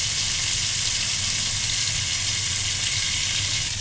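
Mackerel coated in chilli powder frying in a pan, giving a loud, constant close-up hiss and crackle of sizzling oil that holds steady throughout without pauses.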